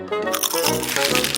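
A crisp sausage bread roll being bitten, giving a loud close crunch with crackling texture that continues through the short moment.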